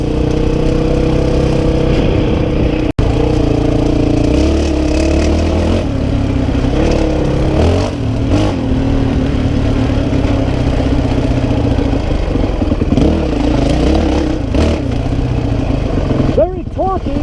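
A 2005 Honda CRF450X dirt bike engine runs steadily with a low, clattering drone throughout, and a few light revs rise near the end; someone talks over it.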